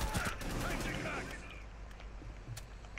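A dense, sustained volley of gunfire in a Rainbow Six Siege match fills the first second, then thins into scattered shots and rumble beneath a voice.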